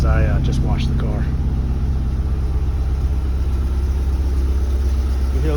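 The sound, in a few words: Subaru STI idling, turbo spring rattle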